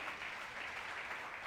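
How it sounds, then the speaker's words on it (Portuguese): A church audience applauds during a sermon; soft, continuous clapping, heard faintly and evenly without any voices. "Você pode dar uma salva de palmas para Jesus, irmão?"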